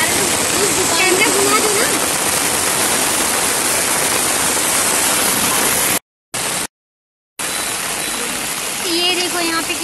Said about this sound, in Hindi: ये देखो यहाँ पे कितनी तेज बारिश हो रही है